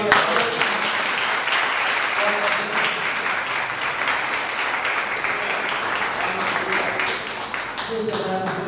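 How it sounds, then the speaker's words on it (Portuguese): A church congregation at a Portuguese-language evangelical service bursts into loud, sustained applause, dense and steady for several seconds with voices mixed in, close and full before easing slightly at the end. "Você pode aplaudir o nome do Senhor."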